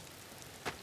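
Rain falls in a Vermintide 2 game level as a faint, even hiss of patter with a brief louder splash, and no voices.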